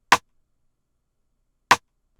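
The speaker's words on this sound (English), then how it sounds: "This is the rim, which is in place of the clap." Two isolated drill-style rim hits used in place of a clap, each a short, sharp, dry click spaced about one and a half seconds apart against silence.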